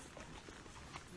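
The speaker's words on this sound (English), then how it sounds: "I got me a white horse." Hooves clip-clop in a soft, uneven rhythm close by, under a steady noisy background, with a person speaking quietly.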